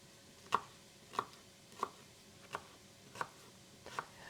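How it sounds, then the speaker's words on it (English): Vegetables for lentil soup being roughly chopped on a board: six crisp knife strikes at a slow, fairly even pace, close and clear over a quiet background. "I'm just cutting everything roughly, not not trying to have nice pieces."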